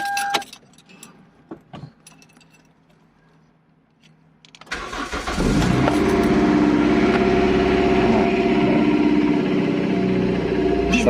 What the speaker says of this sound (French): Starter fonctionne normalement.